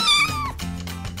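A kitten gives one clear, close meow that rises and then slides down, followed by softer, lower mewing sounds.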